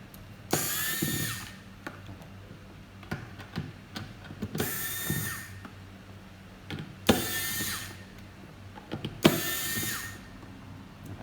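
An electric screwdriver backing screws out of a blender housing, several short whirring bursts separated by pauses, with faint clicks and handling noise between them.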